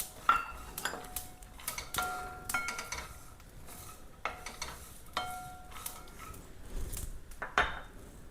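Capsicum, garlic and ginger being dry-roasted and stirred in a pan, with repeated metal spoon clanks and scrapes against the pan at an uneven rhythm over a faint sizzle, close and without speech.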